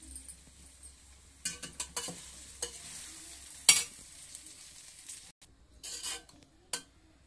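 Cooked rice being stirred into jeera rice in a pan, soft scattered scrapes and spoon taps against the metal, quiet and intermittent with a few sharper knocks, no talking.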